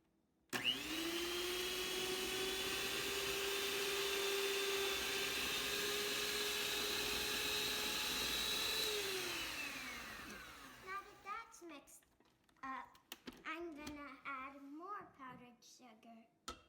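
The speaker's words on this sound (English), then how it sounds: "I'm going to mix it on low until it's totally mixed" An electric mixer whirs steadily on low through powdered sugar icing for lime icing, a loud continuous hum for about nine seconds before winding down, followed by talking.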